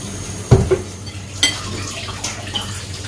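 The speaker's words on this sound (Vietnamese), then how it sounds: "Bây giờ mình tắt bếp mình nghiền ha." Boiled potatoes being mashed in a pot with milk after the heat is turned off, a few soft thuds and scraping stirs of a utensil against the pot over a steady background hiss.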